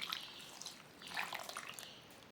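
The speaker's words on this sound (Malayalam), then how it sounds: "വെള്ളത്തിലിട്ട് വെച്ച വാളംപുളി പിഴിഞ്ഞത് ഇതിലേക്ക് ഒഴിച്ചു കൊടുക്കാം" Soaked tamarind extract is squeezed and poured over fish for a curry, a faint, soft liquid trickle with light dripping and no talk.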